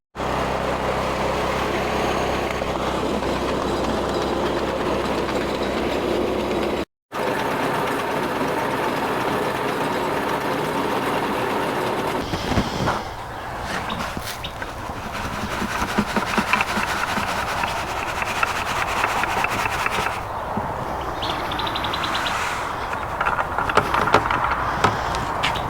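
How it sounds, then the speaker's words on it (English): A rock crusher grinds ore taken from a mine dump, a loud continuous mechanical roar that shifts to a rougher, rattling grind partway through, with no talking. "we gotta crush this pan of rock that we got out of the mine dump"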